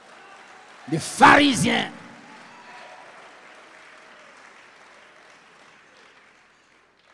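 Church congregation applauding, a short burst of clapping lasting under a second, heard alongside a preacher's speech that carries on faintly afterward.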